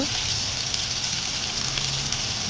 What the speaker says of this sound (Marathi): लसूण आणि हिरवी मिरची तेलात राईची फोडून टाकूया